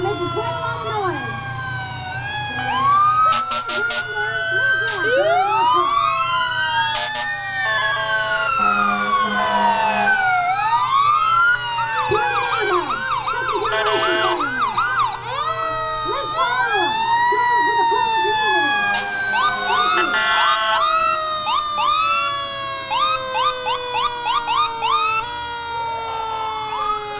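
A fire department rescue truck from Buchanan rolls through the 2019 St. Patrick's Day parade, several wailing and yelping sirens overlapping loudly alongside air-horn blasts, engine rumble and crowd voices.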